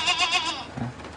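A goat lets out a single loud, close, wavering bleat that fades into quiet rustling, with no talk.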